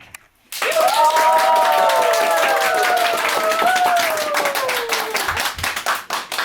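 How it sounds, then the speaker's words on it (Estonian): An audience at a music performance at a culture centre sound studio bursts into sustained, loud applause after a short silence, clapping steadily for several seconds while a rising whistle-like tone sweeps over it. "selle peale kõik hakkab plaksutama"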